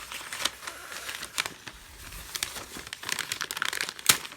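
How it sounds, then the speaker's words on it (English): Newspaper being crinkled and unwrapped from around a boxed Hornby Thomas & Friends diesel model train, soft close-up rustling with scattered sharper crackles and a crisp rip near the end. "now the model is wrapped in this newspaper"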